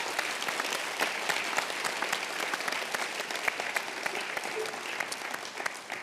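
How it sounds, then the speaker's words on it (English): Delegates at the Scottish Labour party conference applaud steadily, a sustained roar of many hands clapping that fills the hall evenly from start to finish with no break. "So let's give a big cheer to our candidates."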